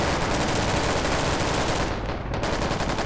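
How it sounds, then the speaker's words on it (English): Loud, dense gunfire in the military video game Squad, a continuous crackling barrage of rapid shots with a brief dip near the end before the firing resumes at full intensity. "I think this might be just cover fire."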